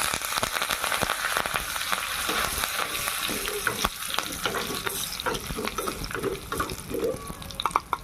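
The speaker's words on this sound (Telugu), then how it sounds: "కరివేపాకు వేసుకుందామండి" Curry leaves, mustard seeds and green chillies tempering in hot oil, a loud crackling sizzle with sharp pops and spatters throughout, close up and steady.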